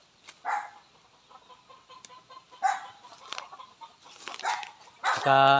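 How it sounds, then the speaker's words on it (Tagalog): Chickens cluck in short bursts close by, with a dog-like bark and scattered poultry calls, ending in a loud rapid squawking. "may mga manok"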